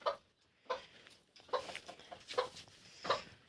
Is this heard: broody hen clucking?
yes